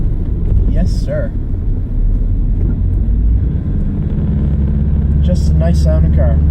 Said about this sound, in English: Listen to that old carbureted engine